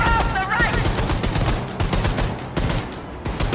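Rapid close automatic gunfire in the shooter game Wolfenstein II, continuous loud rattling bursts with brief gaps, in dense layered fire throughout.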